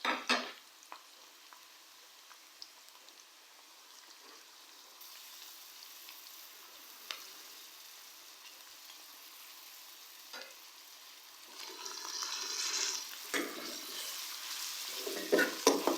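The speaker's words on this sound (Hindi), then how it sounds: "अदरक लहसुन के पेस्ट को हम लोग प्याज के साथ 2 से 3 मिनट तक अच्छी तरह से फ्राई करेंगे।" Quiet sizzling of ginger garlic paste frying with onions in a pan, with occasional stirring scrapes and a louder crackle toward the end.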